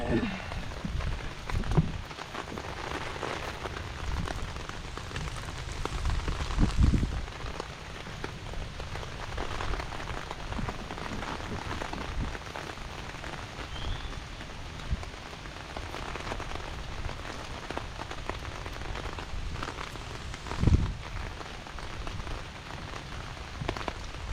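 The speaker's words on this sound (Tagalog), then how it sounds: "Naulan!" Steady rain falls outdoors on open ground during a dig for kuray roots, a continuous soft hiss with scattered louder drops and bumps throughout.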